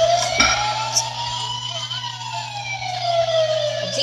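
A toy police car siren wails in a steady rising and falling sweep, loud and close, over a constant low electronic hum in a room.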